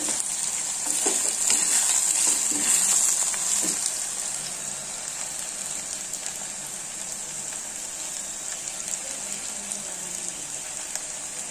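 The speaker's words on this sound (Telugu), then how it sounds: "ఇదిగోండి ఇలా వేగుతున్నాయి" Eggplant (brinjal) pieces frying in a pan for vankaya fry: a continuous bright oil sizzle, loudest in the first few seconds, with occasional soft stirring scrapes.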